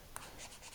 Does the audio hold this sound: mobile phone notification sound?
no